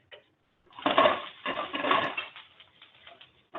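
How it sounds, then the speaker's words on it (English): Bitter greens are turned with tongs in a frying pan among corn, giving bursts of metallic scraping and clatter with short pauses between. "So using the tongs, I'm just going to move my bit of greens through all of the corn."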